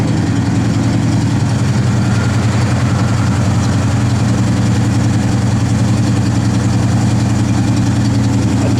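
A 1968 Pontiac GTO engine idling through Flowmaster exhaust, a loud, steady, deep rumble that holds unbroken throughout with no talking.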